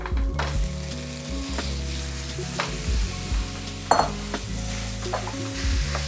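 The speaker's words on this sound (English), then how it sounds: "I'm ready to add my ground beef." Ground beef added to a pan of onions and garlic, sizzling loudly and steadily with occasional stirring scrapes and a sharper clatter near the middle, over background music, no speech.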